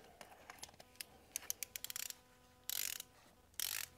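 A spark plug tool tightens a BMW spark plug, giving a quick run of sharp ratcheting clicks that speed up, then two louder, longer grinding bursts close to the microphone.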